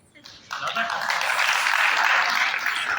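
Audience applause at a comedy poetry gathering hosted by a Lions Club in Bilaspur, a dense, steady wash of clapping that swells in at half a second and holds loud to the end.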